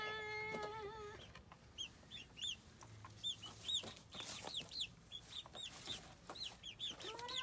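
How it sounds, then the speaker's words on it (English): Several chickens cluck and murmur in quick, scattered bursts close by, with a brief higher squawk near the start. "All right, chickens."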